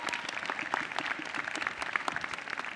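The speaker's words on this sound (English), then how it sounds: "Let's ask our faculty to stand so we can give them a round of applause." A crowd at the 2018 Hunter College graduation ceremony applauds the standing faculty, a busy, even wash of many hands clapping at a moderate distance, with no voices rising above it.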